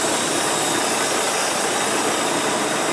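A semi truck tractor's loud, steady engine rumble in low gear with a hissing, broadband roar, continuous and close, with no voices.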